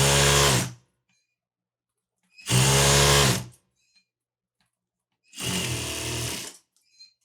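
Sewing machine stitching a Saudi jubba robe: three loud, close bursts of rapid mechanical chatter, each one or two seconds long, with near-silent pauses between them.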